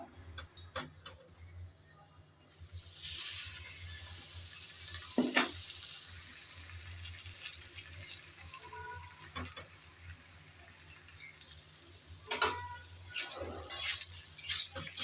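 Spicy pointed gourd and potatoes cook in a covered pan, giving a soft, steady sizzle that runs throughout, with a few sharp clinks and scrapes near the start and again toward the end.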